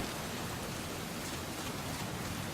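Steady rain falls in the video game Metal Gear Solid Peace Walker, a soft, even wash of broadband hiss that holds unchanged throughout, quiet and with no voices over it.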